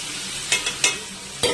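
Spices and salt sautéed in a pan for banana-flower ghonto, with sugar, turmeric, cumin and chili powders, a soft sizzle cut by a few short scraping stirs, close by.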